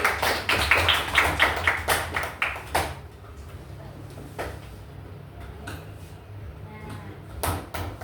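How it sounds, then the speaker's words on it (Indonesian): A class claps hands together in a burst of quick, fairly loud rhythmic claps that stop abruptly, then the room goes quiet apart from low background noise and a couple of isolated taps near the end. "Tepuk tangan kita lagi."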